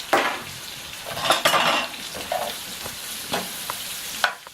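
Food sizzles steadily in olive oil in a pan while a utensil stirs and tosses it, scraping and clinking against the pan throughout.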